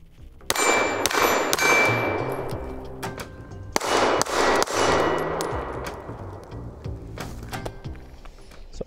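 Sharp metallic clangs and pings of 9mm bullets striking an AR550 steel target outdoors, a rapid series of loud ringing impacts with brief pauses, each hit leaving a lingering metallic ring.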